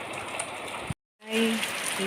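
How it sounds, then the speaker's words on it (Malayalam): Steady early-morning rain hisses as a broadband wash, broken by a short silent gap, then returns with a few faint tonal sounds over the patter. "രാവിലെ മഴ പെയ്തുകൊണ്ടേയിരിക്കുന്നു."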